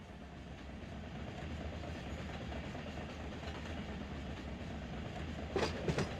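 A freight train and boxcar roll through a BNSF rail yard in the Run 8 train simulator game, a low steady rumble and rattle of wheels with a couple of faint knocks near the end.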